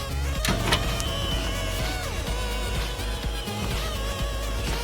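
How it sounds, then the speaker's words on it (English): A Compaq Prosignia Server 720 hard drive spins down, its whine falling in pitch over a low hum, with faint clicks and mechanical ticks, close and quiet. "I'm gonna go ahead and shut it off and just listen to that hard drive."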